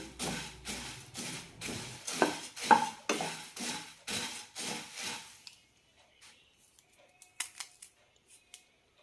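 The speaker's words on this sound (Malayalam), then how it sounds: "പൊരി വറുത്തെടുക്കാൻ ഏകദേശം നാലഞ്ച് മിനിറ്റോളം ആകും ലോ ഫ്ലെയിമിലിട്ടാണ് ഇപ്പോൾ വറുത്തെടുക്കുന്നത്" Puffed rice being roasted and stirred in a pan on a low flame: a steady run of rhythmic, dry scraping strokes, close and fairly loud, that then stops and leaves a few faint scattered clicks.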